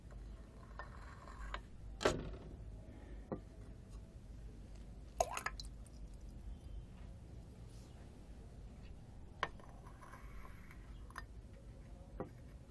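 Water drips from the overflow pipe of a filled overflow vessel into a beaker during a school physics experiment: a handful of sharp, irregularly spaced drops over a quiet low background hiss, with no one talking.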